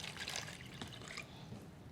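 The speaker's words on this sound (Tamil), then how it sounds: "தண்ணி ஊற்றிடுவோமா" Water poured into a hand casting mould mixture, a brief close trickling and splashing pour that fades into a softer dribble.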